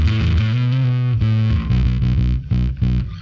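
Heavily distorted, saturated music tone with gritty clipped harmonics, loud and continuous, shifting through a few chords with short breaks near the end.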